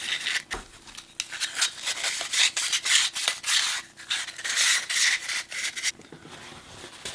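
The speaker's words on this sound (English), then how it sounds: "I'm just going to give this one last polish on the inside to make sure that it is in good shape" Polishing the inside of a motorcycle swingarm bearing housing gives close, continuous scratchy rubbing in uneven back-and-forth strokes, with a brief knock near the start and a quieter trailing end.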